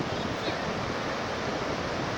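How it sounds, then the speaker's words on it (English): Surf at Ocean Beach, San Francisco, roars in a continuous broad wash of breaking waves with wind buffeting the microphone, steady and close. "Wow, look at all the waves."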